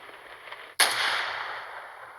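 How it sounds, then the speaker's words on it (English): A single sharp firework blast bursts out of the night sky in the game Punishing Gray Raven, a loud crack followed by a long, bright crackling hiss that slowly fades over a low ambient hum. "Fireworks explode in a clear night sky after the passing of the storm."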